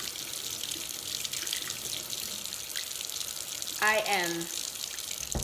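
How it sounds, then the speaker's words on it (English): Tap water running steadily into a sink while a lace frontal wig is rinsed after tinting, continuous hiss close by, with a brief spoken phrase near the end. "I will rinse this out"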